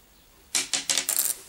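A small nylon guitar pick clatters onto a hard surface, bouncing four or five times in quick, bright clicks before settling.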